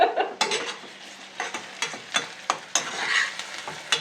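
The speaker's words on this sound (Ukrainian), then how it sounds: "Цибулька горить." Chopped onion sizzles in a deep, high-sided pan while a utensil stirs and scrapes at irregular intervals, producing sharp clattering strokes over a steady frying hiss, close and moderately loud.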